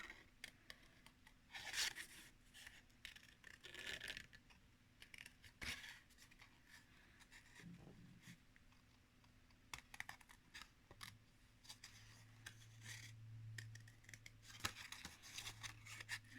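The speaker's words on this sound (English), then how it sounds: "if it's getting a little tricky, cut off the bulk of it so you have less to contend with on the other side of what you're cutting" Scissors fussy cut paper for a craft project, producing faint, close, intermittent snips and paper rustles with irregular pauses and no talking.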